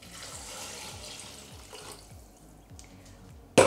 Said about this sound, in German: Jetzt geben wir dazu die 700 Gramm Wasser.